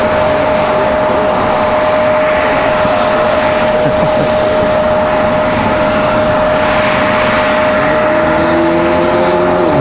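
An American Airlines Boeing 737-800 arriving from DFW at Raleigh-Durham International, a loud, continuous jet roar with a steady whine, close and sustained, with brief crackling bursts over it.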